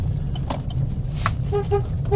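Car horn honking from a vehicle in a crowded rally, a few short tonal toots sounding over steady low road and engine rumble, with brief horn-like bursts near the end.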